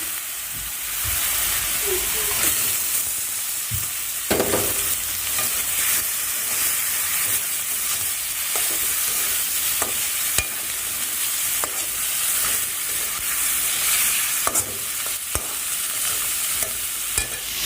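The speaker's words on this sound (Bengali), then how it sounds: "আমি মাছটা ভুনা করার জন্য মশলাটা কষাচ্ছি" Spice paste for a fish curry being stirred and fried in a pan, with a steady close sizzle and hiss throughout and occasional scraping knocks of the spoon against the pan.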